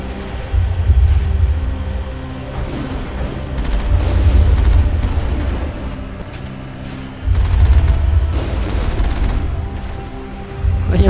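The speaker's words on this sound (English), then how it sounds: "Alright, who's shooting me?" Heavy combat in Mass Effect on the planet Ilos: repeated loud gunshot bursts and booming blasts over a low rumbling bed, sustained throughout with barely any talk.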